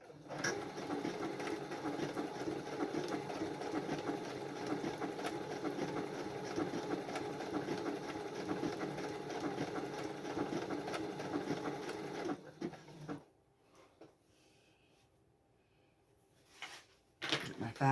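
Sewing machine stitching fabric, running steadily and close for about twelve seconds before stopping, then a faint pause and brief handling noises at the end.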